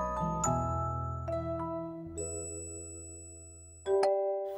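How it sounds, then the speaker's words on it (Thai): A doorbell at a hospital delivery room door sounds a ringing ding-dong chime whose sustained tones step through several notes and then fade, with a final louder strike near the end. "ออดด้านหน้าห้องมีไว้เพื่อติดต่อกับเจ้าหน้าที่ค่ะ"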